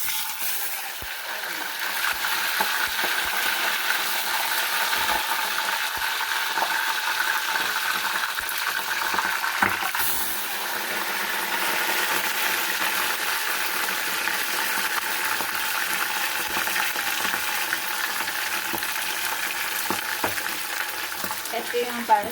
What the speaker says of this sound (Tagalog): Pakita ko sa inyo yung bangus na ipiprito